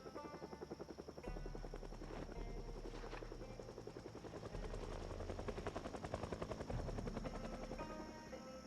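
A helicopter in the video game Project Zomboid passes overhead with a loud, steady rhythmic chop of rotor blades and a droning whine, holding strong throughout with no voices.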